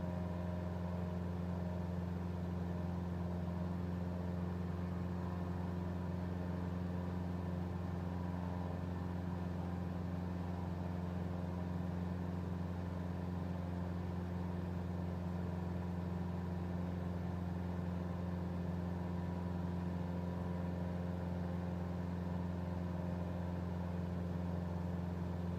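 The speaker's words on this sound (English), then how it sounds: "Engine sounds good." Steady drone of a light aircraft engine in a beginner VFR flight simulator, holding an even, unchanging hum with strong low tonal bands throughout, no voices over it.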